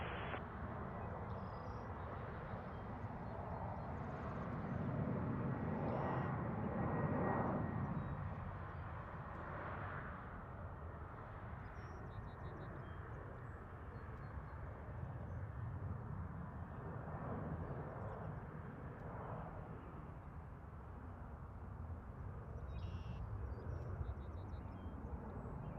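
A Lufthansa heavy jet airliner lands on runway 06 left at Toronto Pearson, its engine roar a steady broad rumble swelling briefly louder before settling into a sustained distant drone, with no voices.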